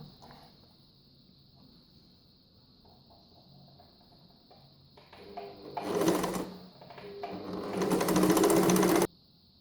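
An Empisal sewing machine with a twin needle sews a straight stitch, running in two loud bursts of fast, steady whirring after quieter handling noises.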